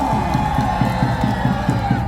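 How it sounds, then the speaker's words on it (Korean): A crowd cheers and applauds at an outdoor campaign rally launch in Gwangju, a steady wash of clapping and whoops that stays loud and dense throughout, with a rhythmic pulse of music or chanting underneath. "한가위 박수 한번 주시기 바랍니다"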